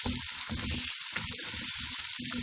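Potatoes, whole chillies and vegetables for a saag, peas, potato and carrot dish fry in a pan, giving a steady close sizzle with bursts of stirring and scraping throughout.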